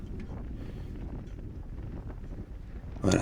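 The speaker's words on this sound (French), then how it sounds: "il y a un vent de face qui ralentit un petit peu tout le peloton" Steady, muffled wind rushes over the microphone of a cyclist riding into a headwind in an amateur UFOLEP road race, with a louder gust at the end.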